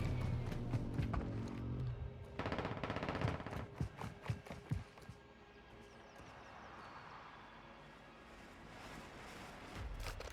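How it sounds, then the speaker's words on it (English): Gunfire in Warzone 2.0 in the marshlands: rapid bursts of automatic fire and single sharp shots crack out in clusters over the first five seconds, then fade into a quieter ambient stretch with a few distant pops. "So I heard the gunfire"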